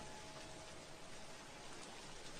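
Steady rain falls in a constant broadband hiss with no breaks, a quiet, even wash of water on surfaces and no voices.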